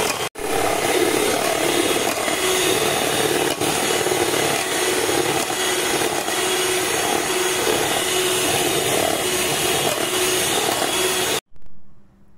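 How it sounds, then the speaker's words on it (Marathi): An electric mixer whips cream for a homemade birthday cake, a loud, steady motor whir with a gritty churning texture that runs unbroken before cutting off abruptly near the end. "अशा प्रकारे आपल्याला ही क्रीम 10 ते 15 मिनिट चांगल्या प्रकारे फेटून घ्यायची आहे"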